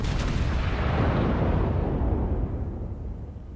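A massive naval gun salvo in World of Warships, battleship cannons firing toward the Atago: one deep, heavy boom at the start that rolls on as a long rumbling decay through the whole stretch.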